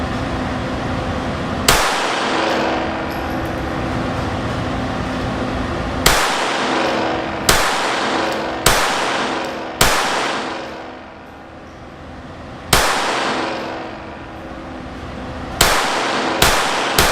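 Glock 44 handgun fired outdoors, about ten sharp, loud shots at irregular intervals, some in quick pairs, each with a short ringing decay.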